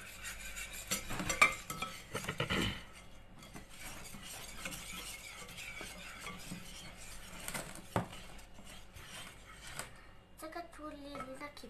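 A spoon stirs apple pie batter in a bowl, with steady scraping and light clinks against the sides, a few sharper knocks, and a voice talking over the stirring.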